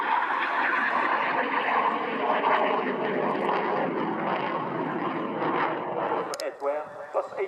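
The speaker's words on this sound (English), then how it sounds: "the Aero L195 Alka, or Advanced Light Combat Aircraft. This is the fighter version of the successful Aerovody L39 Albatros." An Aero L-159 ALCA light combat jet on a flying display at an air show roars steadily and loudly for several seconds, then the engine noise fades and breaks up toward the end.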